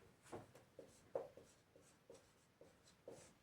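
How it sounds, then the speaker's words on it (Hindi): Pen or marker writing on a board during a physics lesson, with a series of short scratchy strokes in an irregular rhythm, close and fairly quiet. "तो यहां पे में हम लिखते हैं"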